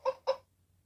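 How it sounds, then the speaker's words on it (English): Two quick hen clucks played by a LeapFrog Learning Friends interactive animal book, each short and clear, close and alone with no talking. "Hen."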